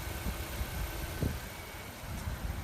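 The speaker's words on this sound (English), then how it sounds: "That tick tick tick tick tick tick tick tick, the tick tick tick tick is the direct injection" A 2017 Honda CR-V direct-injection engine idles with a low, steady hum and soft, faint ticking, heard alone without talk.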